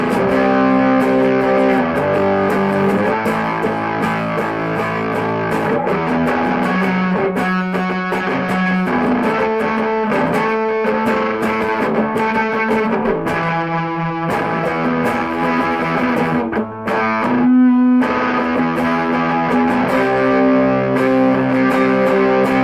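A Vintage V100IT electric guitar plays through heavy distortion on pickup setting 2. Thick, sustained chords and riffs run loud and unbroken, with only a brief dip partway through.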